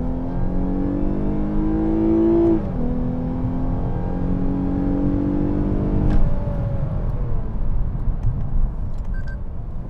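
A 2020 Lexus GS 350 F Sport in Sport Plus mode revs hard, its engine note climbing in steady harmonic sweeps, dipping briefly at a shift, then pulling again, loud and close throughout with no talking.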